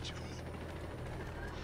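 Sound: helicopter in Ghost Recon Wildlands video game

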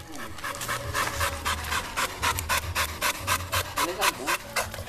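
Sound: pit bull dog panting

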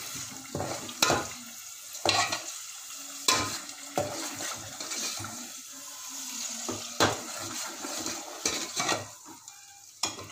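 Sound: mustard seeds spluttering and frying in oil

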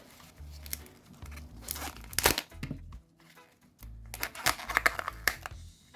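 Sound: rustling of Kinder Joy packaging

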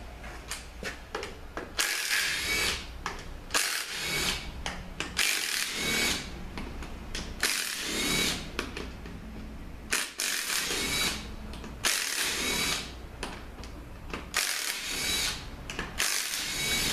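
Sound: removing the pump from a 4T45E transmission

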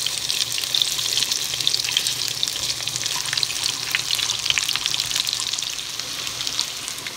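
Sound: food frying in a pan

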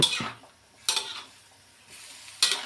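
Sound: stir-frying rice in a pan, American fried rice

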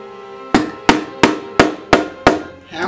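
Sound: hammering leather punch through leather

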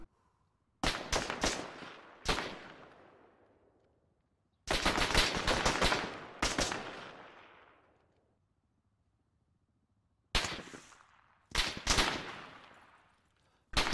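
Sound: gunfire in a military video game

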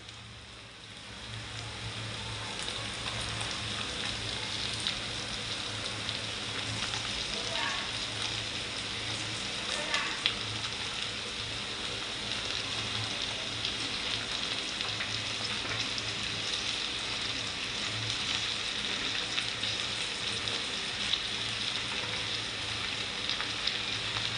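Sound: okra being stir-fried with onion and kokum

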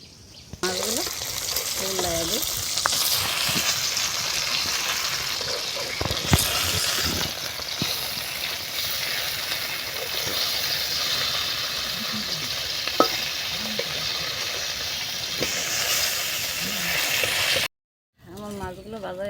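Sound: frying chopped cabbage and beans in oil

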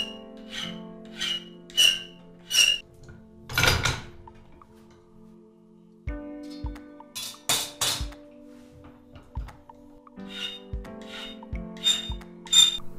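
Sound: filing end of square door-handle metal blank with file

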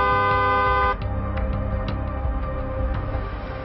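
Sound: vehicle horn honking sound effect

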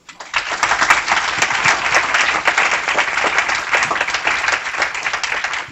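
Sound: audience applause

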